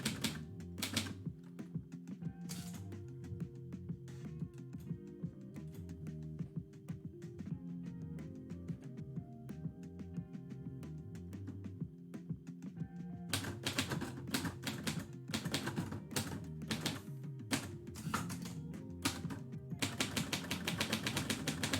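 Typewriter keys clatter in steady bursts during live typewritten poetry, with irregular strikes in the first half and a denser run of sharp, loud strikes and carriage sounds later, over a soft musical background.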